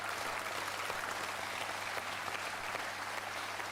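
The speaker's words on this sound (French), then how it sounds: "On applaudit Franck Alamo." A TV quiz show studio audience gives steady, dense applause that holds at an even level from start to finish, with no talk over it.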